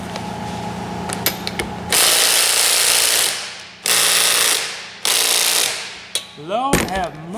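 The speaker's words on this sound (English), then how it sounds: "We used the heat and beat method, and it came right off with the puller too." Flywheel being pulled off the engine of a 1974 Harley Davidson golf cart, with sharp ratcheting clicks and several loud sustained bursts of a rattling impact tool, close and harsh, with a brief voice near the end.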